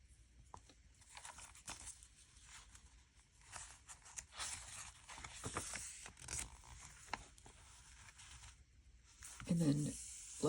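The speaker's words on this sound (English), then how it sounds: "Some crinkly paper. I like the sound of that." Crinkly paper from a digital-kit journaling page is handled in bursts of rustling and crackling at close range, with a louder crumple near the end; someone talks between the bursts.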